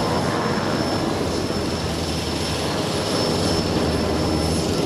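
An NH-90 Caïman helicopter of the French Navy flies an air show demonstration at the Hyères naval air base centenary meeting, its engine and rotor roar loud, broad and continuous with no voices.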